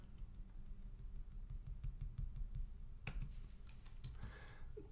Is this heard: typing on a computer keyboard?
yes